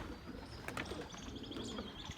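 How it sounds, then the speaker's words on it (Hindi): Pigeons sit on a rooftop, giving soft, faint coos and a few scattered chirps over low background noise, with no voices. "ये देखिए पिटे भाई के 2 कबूतर बैठ गए"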